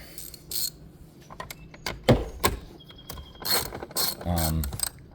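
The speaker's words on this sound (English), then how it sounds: "So there are 2 10 millimeter nuts and a 7 millimeter screw in here. Just grab a regular ratchet for that." A regular ratchet clicks in short bursts while loosening 10 mm nuts on the battery of a 2025 Jeep Wrangler 2.0, close and crisp with pauses between strokes.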